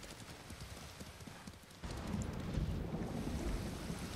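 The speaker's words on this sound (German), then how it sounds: "Ein Gewitter." Thunderstorm in Ghost of Tsushima: a deep rumbling roll of thunder swells in midway and holds over steady rain and wind, with horse hooves clip-clopping underneath beforehand.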